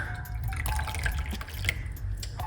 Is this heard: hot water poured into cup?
yes